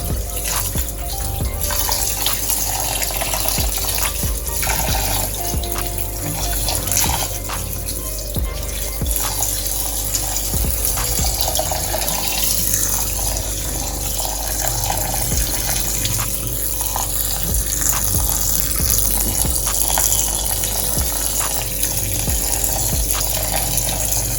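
Rice washed under a running kitchen tap until the water runs clear, a steady, loud, close gush of water with light swishing, continuous for the whole stretch and without talk.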